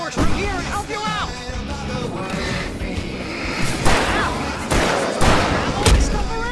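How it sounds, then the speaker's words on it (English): Fireworks bursts mixed with gunfire in the Alan Wake Remastered video game, repeated sharp bangs and booms over a busy soundtrack, with voices shouting in between. "I can set off more of the fireworks from here and help you out!"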